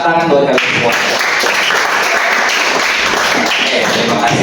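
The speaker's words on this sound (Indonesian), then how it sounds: "Tepuk tangan buat kalian semua." A classroom group applauds together, dense steady clapping that fills the whole stretch at close range, with a voice audible briefly at the start.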